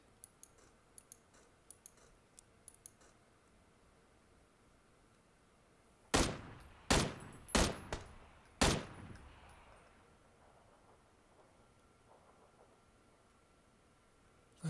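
VSS sniper rifle shots in PUBG, four loud sharp cracks in fairly quick succession following a series of faint clicks, each shot followed by a short decay.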